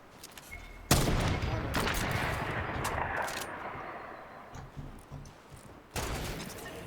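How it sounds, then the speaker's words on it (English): Video game gunfire erupts in a loud sudden burst, rattling on and gradually thinning out, then another sharp burst near the end. "Dude, I've got 2 people shooting at me."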